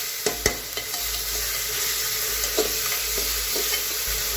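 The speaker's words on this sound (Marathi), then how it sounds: "चांगलं गुलाबी रंग येईपर्यंत परतून घ्यायचे" Masala rice ingredients sauté in a pan over a steady, fairly loud sizzle, with a few sharp scrapes and knocks from stirring near the start and again later.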